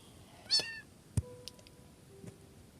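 Cat in a video game, a single clear meow near the start followed by a few faint clicks and short blips against quiet background, no talk.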